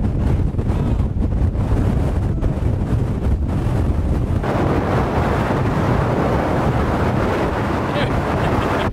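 Very strong wind roars across a Peak District hilltop, a loud continuous buffeting rush that batters the microphone throughout and grows even denser in the second half, with no speech.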